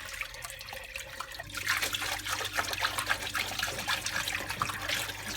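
Water pours from a washing machine hose while a Henry vacuum filter is being washed, a steady close trickle and splash that swells after the first second and runs on without talk.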